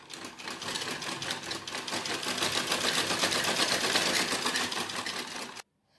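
A sewing machine runs continuously, stitching a piping strip onto a blouse, with a fast, even whirring and rapid needle ticking heard close up, steady throughout and then stopping abruptly.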